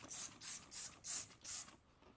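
Five quick bursts of Simple Green all-purpose cleaner sprayed onto a 2005 Subaru STI's headlights, each hiss short and evenly spaced, close and fairly quiet.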